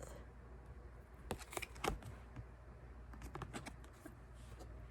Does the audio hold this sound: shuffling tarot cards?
yes